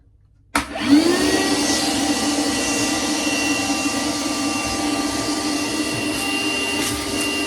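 A vacuum cleaner with a dryer vent hose attachment switches on abruptly after silence and keeps up a loud, steady whooshing whine with a high motor tone while cleaning a dryer vent.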